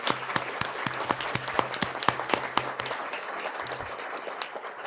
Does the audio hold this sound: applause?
yes